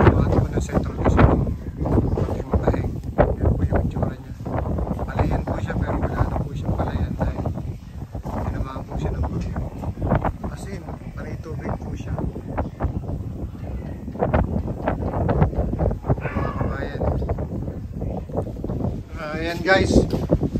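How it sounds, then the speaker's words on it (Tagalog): Strong typhoon wind from Typhoon Paeng buffets the microphone in a steady roaring rush with rustling gusts throughout, while someone talks over it. "Ito po yung hangin dito na dala ng bagyong paeng."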